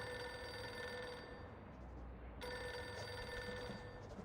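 A telephone rings on an assistant's desk in Reverse: 1999, a sustained bell-like ring over a busy office game soundscape, steady and fairly loud.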